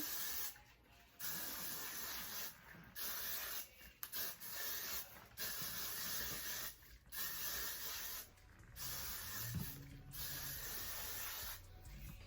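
Repeated hissing bursts of an aerosol glue spray, about six long sprays separated by brief pauses, close and steady, with no talking.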